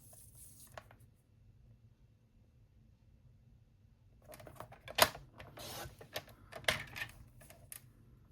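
A paper trimmer slices a thin quarter-inch strip of cardstock, a short run of soft scraping and clicking with a couple of sharper snaps near the end, quiet and close after a silent pause.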